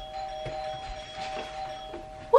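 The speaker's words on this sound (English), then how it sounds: "Who is that ringing the bell?" A short electronic doorbell chime rings over a quiet room background, with a louder tone bursting in at the very end.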